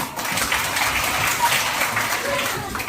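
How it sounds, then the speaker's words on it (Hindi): A group of children claps together in a steady patter of applause lasting a few seconds, moderately loud and close. "तो आप इनके लिए कैसे ताली बजाओ।"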